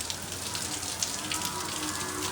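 Rain falls outdoors during a spell of slow, steady monsoon drizzle on a farm, a continuous hissing patter that stays fairly loud and uniform with no talk.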